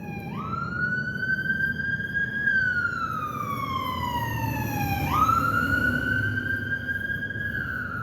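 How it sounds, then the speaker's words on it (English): A passing ambulance siren wails in long rising and falling sweeps, loud and steady throughout, over a low rumble of traffic. "Oh, here comes an ambulance."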